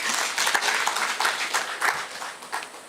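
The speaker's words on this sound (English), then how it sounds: "Another round of applause for Dr." Conference audience applauding, a moderate crowd of hands clapping in an even, continuous patter that fills the hall without voices on top.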